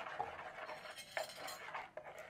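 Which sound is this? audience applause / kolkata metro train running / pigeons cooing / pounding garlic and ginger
pounding garlic and ginger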